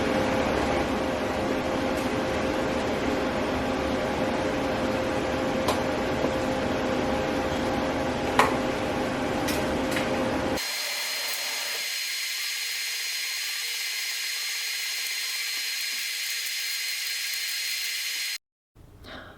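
TIG welding of 1/8 inch cold rolled mild steel with a welder set to 120 amps: a steady buzzing hiss runs for about ten seconds, then a thinner, even electrical hum holds until it cuts off near the end.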